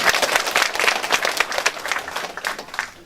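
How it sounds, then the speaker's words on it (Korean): Applause fills the room at a Korean lawmaker's community policy report meeting in Jeonju, a steady, dense patter of many hands clapping at close range for the full stretch. "박수 부탁드리겠습니다"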